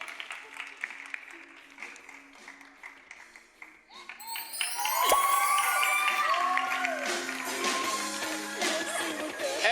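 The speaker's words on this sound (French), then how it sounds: "Ça s'applaudit, s'il vous plaît." A studio audience on a French television dating show breaks into applause with scattered cheers and whistles, swelling loud after a few quiet seconds of murmuring and continuing steadily to the end.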